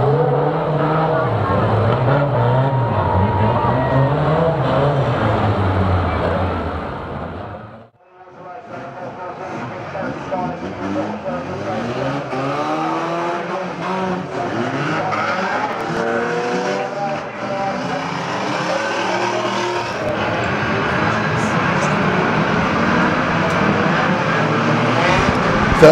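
Unlimited banger racing cars run on an oval track at a night meeting, with loud, continuous roaring and revving engines, shifting pitch as cars pass, tyre skids and occasional impacts, all under an announcer talking over the crowd.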